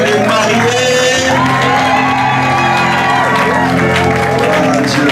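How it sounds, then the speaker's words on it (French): A wedding congregation at a religious ceremony breaks into loud, sustained whoops, shouts and applause to honor the newlyweds, a dense crowd roar that fills the whole stretch without letup. "par nos acclamations, est-ce qu'on peut honorer les mariés?"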